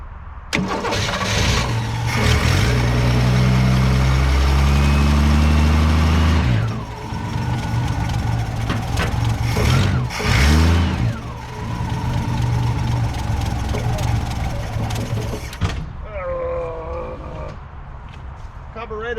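An abandoned Ford, a 1962 Falcon or 1967 Galaxie, cranks loudly with a rhythmic starter whir, then catches and runs roughly before cutting out; a second cranking burst follows near the end.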